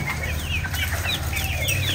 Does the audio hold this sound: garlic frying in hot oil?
no